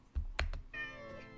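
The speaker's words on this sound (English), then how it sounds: "No way they use a real cat for the cat noise." A Minecraft cat meows twice in quick succession, short and close, then a longer drawn-out meow follows, clear and alone with no talking.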